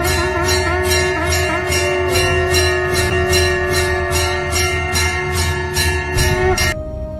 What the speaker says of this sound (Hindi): मंदिर में बजती घंटी लोगों को अपनी ओर आकर्षित करती है